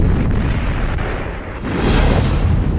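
Giant coastal cannon of the Todt battery on the Channel coast fires during trials in October 1940, a loud, sustained booming blast with a brief dip and a second heavy roar.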